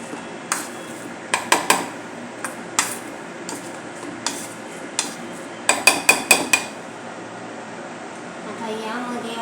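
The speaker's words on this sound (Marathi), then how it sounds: "अशा प्रकारे आपण चांगले मॅश करून घेतोय." Boiled food being mashed in a bowl for a healthy snack, heard as close, irregular taps and knocks of a utensil against the bowl, some in quick bursts, with a voice speaking now and then.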